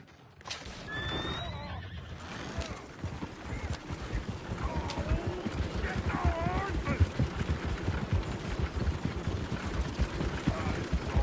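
Horses whinny and hooves clop steadily in Red Dead Redemption 2, with a loose horse among them, the busy clopping running throughout under a loud whinny near the start and people talking in the background.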